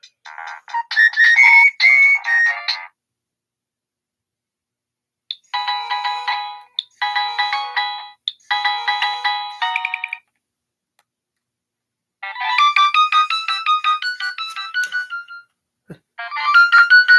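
An old mobile phone plays a melodic electronic ringtone in bursts separated by short silences, each phrase stepping higher than the last, bright and clear with nothing else heard.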